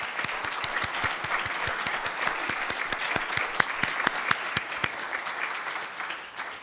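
A church congregation at a Lenten lecture gives a quick round of applause: sharp, distinct claps from a modest crowd, fairly close and steady, with little talk over them.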